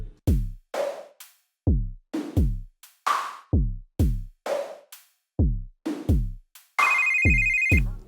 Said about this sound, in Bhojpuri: किशन भैया का फोन आवता हो।